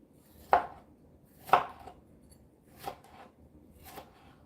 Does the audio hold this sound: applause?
no